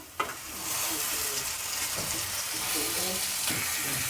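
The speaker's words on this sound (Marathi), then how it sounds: "आता आपण हे कारलं घालूया" Bitter gourd dropped into a hot pan, a sharp crackling sizzle bursting at the start and then settling into steady frying hiss with a few stirring clinks, close up.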